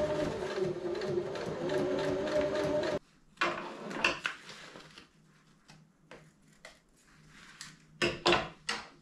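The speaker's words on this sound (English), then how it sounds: "I'm just going to sew this join up." A sewing machine stitches the seam of a custom bike frame bag, running in a steady fast whir for about three seconds, then stopping, followed by quieter handling clicks and several short bursts of stitching.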